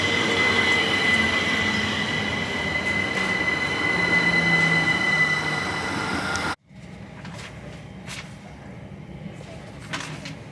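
Southern Class 377 five-car electric train on the Epsom Downs branch in South London, a loud steady rumble with a high wheel squeal for several seconds that cuts abruptly to quieter cabin noise and scattered clicks.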